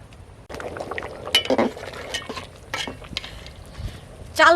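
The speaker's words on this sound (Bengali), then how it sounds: "চাল ফুটে উঠেছে, এবার সেদ্ধ করে রাখা ডালটা দিয়ে দিচ্ছি।" Boiled lentils tipped into a pot of rice already at a rolling boil for Bengali khichuri, giving a few soft wet plops and clinks of a utensil against the pot over a steady bubbling simmer.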